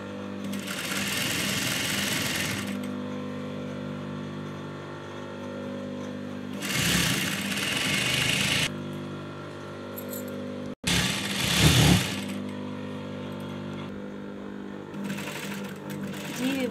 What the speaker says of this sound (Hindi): इसको मैं इस तरह फोल्ड करके इस तरह से टांका लगाऊंगी।